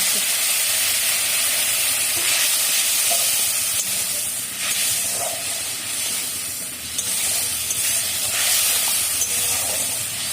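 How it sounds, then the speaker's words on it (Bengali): Spice paste frying with added water in a pan while cooking bottle gourd with prawns at home: a steady, loud sizzle and steamy hiss that surges and eases in waves, with no talking. "এরপর জল দিয়ে মশলাটাকে কষাবো"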